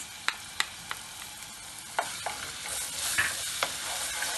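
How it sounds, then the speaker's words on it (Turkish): Homemade tomato and pepper paste fries in a pan as it is stirred for chicken stew, a soft continuous sizzle punctuated by sharp spoon taps and scrapes against the pan, close and without talk. "salçamı da çeviriyorum şöyle çiğ kokusu çıksın diye"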